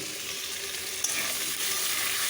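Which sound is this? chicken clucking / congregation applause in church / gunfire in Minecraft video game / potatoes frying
potatoes frying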